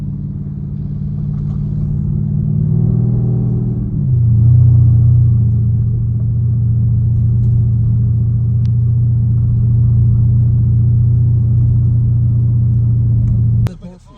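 Deep, steady rumble of a 400HP Porsche V8 idling close by, swelling slightly around the fourth second, then holding a constant drone before cutting off abruptly at the end.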